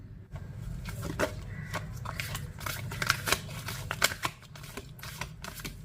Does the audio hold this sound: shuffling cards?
yes